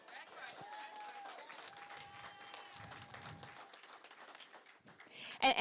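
A crowd at a Virginia gubernatorial campaign rally in Portsmouth tries to chant a candidate's name, with scattered clapping and cheering at moderate distance, under ongoing talk.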